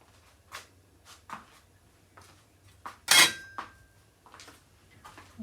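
Scraping and clinking against a frying pan as excess burnt flour is cleared off it, scattered short scrapes and taps with one sharper metallic clank, fairly faint in a quiet kitchen.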